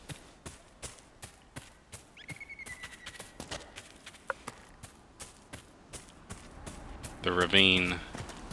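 Steady, evenly spaced hoofbeats of a horse in the video game Dragon Age: Inquisition clop along throughout, with someone speaking briefly over them and a louder burst of sound near the end.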